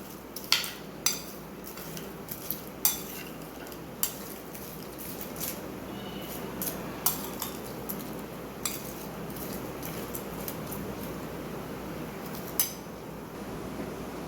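Chaat of potato chips being tossed and stirred in a bowl, with scattered sharp clinks and taps of a utensil against the dish over a steady soft rustling, close and moderately quiet, no voices.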